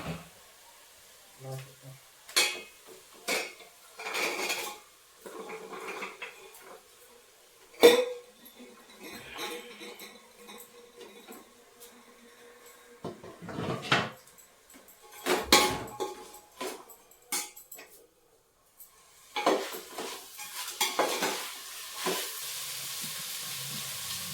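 Chopped vegetables go into a hot frying pan with oil and get stirred, giving bursts of sizzling and clattering spatula scrapes between quiet stretches. Someone talks at times.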